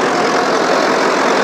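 A tractor engine, John Deere or Mahindra, runs at a steady loud throb while hauling a heavily loaded trolley, a close continuous diesel rumble with no voices.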